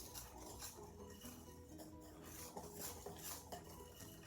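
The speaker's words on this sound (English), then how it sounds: "we're going to whisk all these ingredients together until they're well combined" A whisk stirs vanilla and orange extract into chocolate orange cupcake batter in a bowl, giving a steady run of soft scraping and light clinks against the bowl with no talking.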